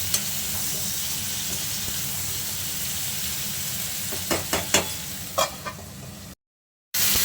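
Cauliflower pieces frying in a covered pan with cumin powder, giving a steady, close sizzle broken by a few sharp clinks of a spatula near the end before a brief gap of silence.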